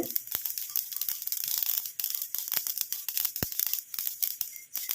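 Mustard seeds fry in hot oil with rapid, irregular crackling and popping, dense sharp snaps close up and fairly loud, carrying on continuously without speech.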